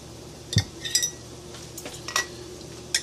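A spoon scrapes and clinks against glass while home-canned beef is spooned into a jar, a few sharp metallic taps and a soft scrape spread over a quiet, close background.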